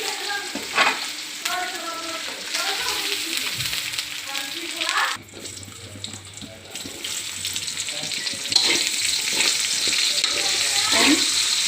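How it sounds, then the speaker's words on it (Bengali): Chicken pieces sizzle and fry in a pan for a chaowmin dish, with a steady crackle broken by stirring clatter and a spell of running water, while a voice talks faintly at the start. "আমি 3 মিনিট করে 6 মিনিট মাংসগুলো ভেজে নেব"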